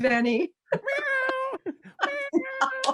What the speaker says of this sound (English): You may hear my cat roaring in the background.